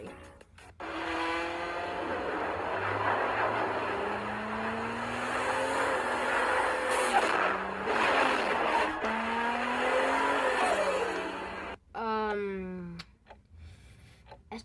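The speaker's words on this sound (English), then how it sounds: "we're gonna get the sound. The exhaust." A car's exhaust note, probably a Honda S2000 near the close, revving up and down in rising harmonic sweeps for about twelve seconds before cutting off, then one more short, sharp rev, loud and close with no talking.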